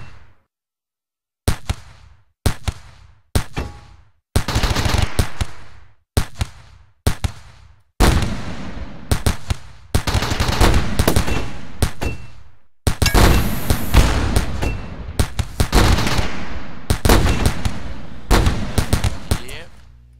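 Auto turrets firing at raiders in the video game RimWorld: sharp gunshot-like bursts, first as separate spaced shots, then dense overlapping volleys of rapid fire that continue loud and steady.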